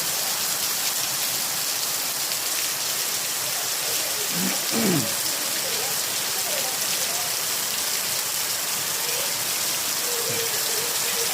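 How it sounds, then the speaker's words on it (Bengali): Heavy rain pours down on a rainy day, a dense, loud and unbroken hiss of falling water, with a brief faint voice-like sound partway through. "এত বৃষ্টি নামতেছে এই দেশে"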